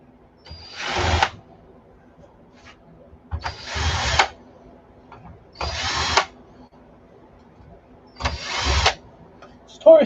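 Power drill driving screws during board cleanup, four separate short whirring bursts spaced a couple of seconds apart, close and fairly loud over a quiet background.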